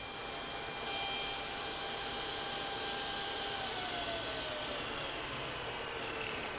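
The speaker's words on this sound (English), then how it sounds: "So the router can run up against the edge." A handheld router cutting wood while making a square jig for box making, a steady broadband whine holding at an even loudness with no pauses, close and alone throughout.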